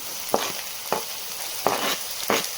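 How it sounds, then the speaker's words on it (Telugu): Chopped tomatoes frying with softened onions in a pan for a Nellore-style fish curry with raw mango: steady close sizzle broken by four sharp scraping stirs at even intervals, no talking. "ఇప్పుడు మనం ఒక 2 టమాటాలు చిన్నగా కట్ చేసుకొని ఇందులో వేసుకోవాలి"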